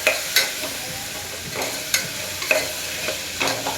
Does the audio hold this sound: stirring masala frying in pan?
yes